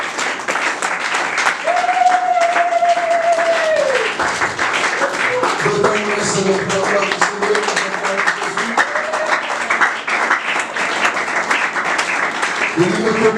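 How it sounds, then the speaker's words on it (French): A church congregation applauds and acclaims the Lord, steady clapping and crowd noise filling the space with a sung or voiced tone rising above it, people voices mixed in throughout. "Nous acclamons le Seigneur."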